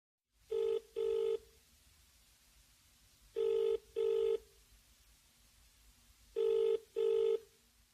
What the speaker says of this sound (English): He is phoning her for directions.